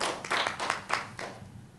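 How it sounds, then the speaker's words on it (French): A small lecture audience at a talk on African diasporas gives brief, faint applause: a handful of scattered claps over under two seconds, tapering off quickly. "on va l'accueillir sous vos applaudissements"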